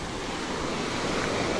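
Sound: ocean waves breaking on the beach

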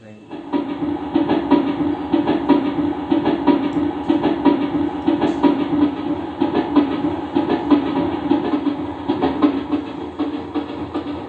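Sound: train sound from Roland XPS 30 keyboard

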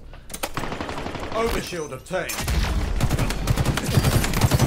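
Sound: gunfire in Halo Infinite video game

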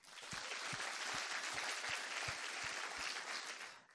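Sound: audience applause

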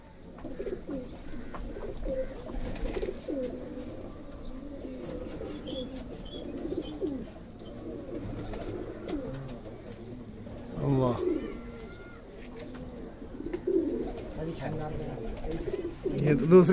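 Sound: pigeons cooing

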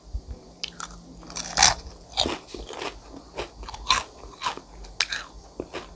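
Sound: biting crunchy fried chicken skin

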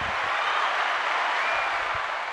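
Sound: crowd applause

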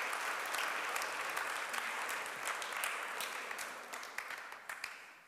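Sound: audience applause for speaker

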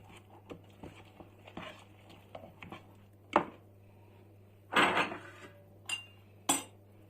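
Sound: mixing eggs in a bowl

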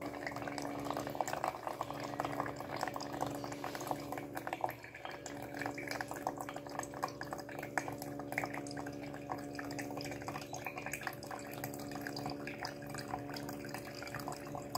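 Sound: water dripping through a paper filter

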